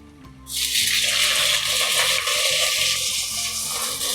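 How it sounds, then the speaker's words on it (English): A cup of water is poured into a hot pan of browned onions, bursting into a loud, steady hiss and sizzle that starts abruptly and holds to the end over faint background music. "Now I'll add in 1 cup of water."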